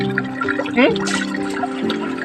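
Water from a spring-fed supply pours and runs steadily nearby, a continuous flowing wash heard beneath a voice as he talks.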